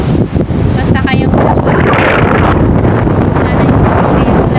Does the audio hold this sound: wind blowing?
yes